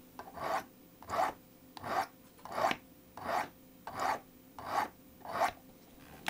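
A Swiss Army knife blade is drawn across a sharpener in eight evenly spaced rasping strokes, close and fairly quiet, with no voices.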